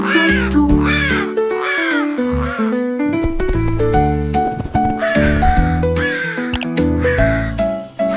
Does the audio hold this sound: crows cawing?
yes